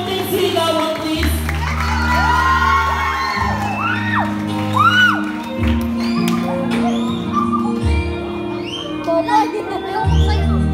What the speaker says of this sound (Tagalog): Isang masikabong palakpakan naman po na may konting sigawan, please.